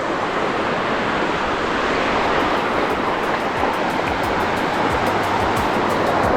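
Ocean waves break and wash on a beach in Lagos, Portugal, a loud, continuous roar of surf with wind rushing across the microphone and no voices.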